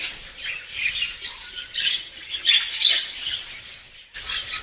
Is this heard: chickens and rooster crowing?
no